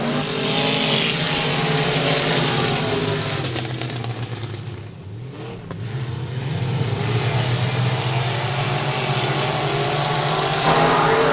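Race cars roaring through the opening lap at 67 Speedway in Texarkana, a loud continuous engine howl from a pack of cars that dips briefly midway as they pass, then builds again.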